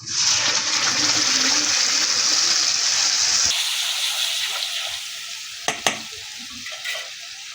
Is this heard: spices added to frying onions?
yes